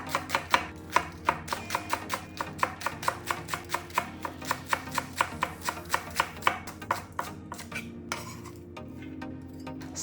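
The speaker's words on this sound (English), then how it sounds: "Chop the green onions thinly." A knife chops green onions thinly on a cutting board, a fast, even run of crisp taps close up that stops briefly near the end, with no talk.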